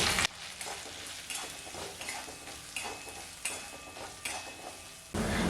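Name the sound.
spices stirred and fried in pan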